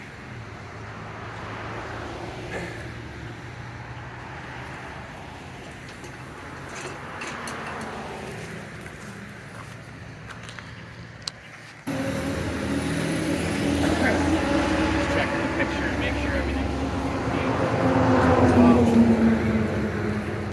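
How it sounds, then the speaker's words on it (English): Continuous rumble of passing traffic on a busy road fills the background, swelling louder in the second half as vehicles go by, with a person talking briefly over it. "Sorry about the road noise. I live on a busy road"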